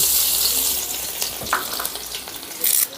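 Finely chopped garlic hitting hot oil makes a short burst of close sizzling that fades a little, then a brief louder flare near the end.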